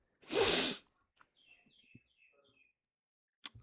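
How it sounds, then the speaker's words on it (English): A single loud, explosive sneeze bursts out near the start, followed by quieter breathy shuffling and small clicks, with a brief sharp noise near the end. "My bad, I sneezed."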